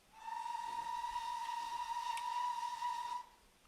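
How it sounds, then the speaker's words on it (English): A high-pitched LNER steam train whistle sounds in the Train Sim video game as one long, steady, shrill tone that holds for about three seconds and then cuts off, clear and alone with no voices. "something with the LNER whistles, I wasn't keen on the high pitchness of the whistles."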